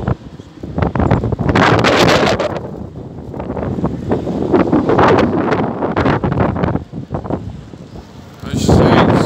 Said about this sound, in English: keeping warm in these high winds